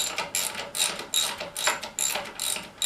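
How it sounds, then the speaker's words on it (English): A hand ratchet tightens the wheel bolts on a Yamaha MT09 motorcycle fitted with custom wheels, giving six quick bursts of close, bright clicking with short pauses between strokes and no talk. "it's just a question of tightening up and then getting the torque wrench out, torquing everything down to torque specs"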